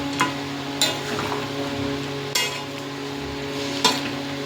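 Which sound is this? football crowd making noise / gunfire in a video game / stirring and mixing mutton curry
stirring and mixing mutton curry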